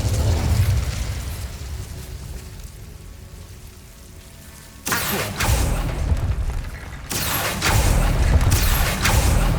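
Incendio fire spell cast in Hogwarts Legacy, two loud whooshing fiery bursts erupting one after another over a low rumbling ambience, each flare sustaining and crackling like roaring flame.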